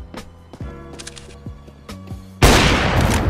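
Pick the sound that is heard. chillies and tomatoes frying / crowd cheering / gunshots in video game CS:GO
gunshots in video game CS:GO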